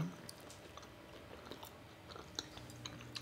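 Someone chewing a potato snack dipped in ranch, with soft, close crunching and mouth sounds that stay faint and steady throughout, no speech.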